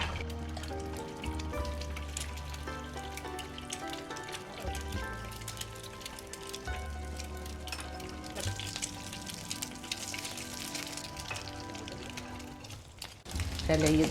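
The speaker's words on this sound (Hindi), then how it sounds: "हमारी बारी है अंडे की। अंडा फ्राई करते हैं।" An egg frying in a pan, with a soft, continuous sizzle under background music and some kitchen clatter, growing louder toward the end.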